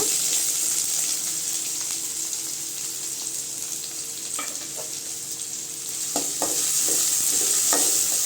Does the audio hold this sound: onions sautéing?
yes